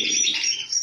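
Several caged birds chirp and tweet in a breeding aviary, a dense, bright chatter of overlapping calls that carries steadily close by with no voices.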